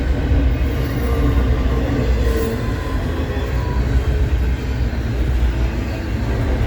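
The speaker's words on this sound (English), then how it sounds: "There's the end of the train." The tail end of a Norfolk Southern stack freight train rolls past in cold weather, a steady, loud rumble of wheels and cars close by with faint squeals; no one speaks.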